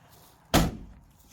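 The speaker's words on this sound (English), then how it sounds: "Well, shut the door." A single solid thud as the door of a 1969 VW Baja Bug is shut nearby, a sharp slam with a short low rumble afterward, then quiet.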